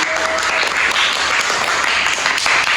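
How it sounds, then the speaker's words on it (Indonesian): Classroom applause for a student group, a steady burst of many hands clapping close by, fairly loud and continuous, with little talk. "kita beri tepuk tangan untuk kelompok 1"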